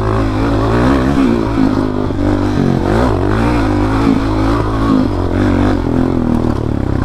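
A motocross-style supermoto motorcycle engine revs loudly and continuously while riding, a dense, rough mechanical roar with clattering and rising throttle bursts throughout.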